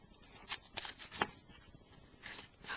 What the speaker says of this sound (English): Then I take my X-Acto knife and I cut away the corners,